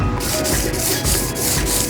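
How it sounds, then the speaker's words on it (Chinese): Wet hand sanding of a car's rear bumper with 1500 grit sandpaper gives a steady, close, back-and-forth rasping scrub in even strokes, loud and continuous without talk. "1500的沙子来进行一个打磨。"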